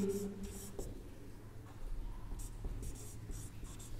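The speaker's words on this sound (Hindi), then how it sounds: "लिखते हैं पहले" Marker or chalk scratching across a board during a physics class on optics, with short, soft strokes coming in scattered bursts over a low room hum, heard at moderate distance.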